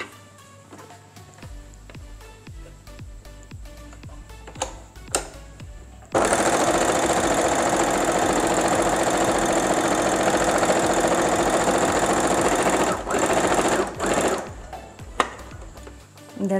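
A sewing machine stitches the hem of a cotton salwar pant, its needle running in a loud, steady, rapid whir for about seven seconds, then pausing, with softer handling noises before and after.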